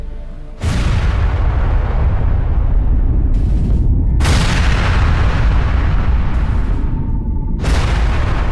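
A massive nuclear bomb blast of about 20,000 tons of TNT rising into a mushroom cloud, heard as a sudden deafening roar that keeps thundering and rumbling in repeated surging waves, alone without voices.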